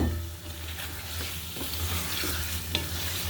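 Fish and potatoes fry together in a pan, giving a loud, continuous sizzle with a low oily rumble. Stirring scrapes come through it, and a sharp clink near the end.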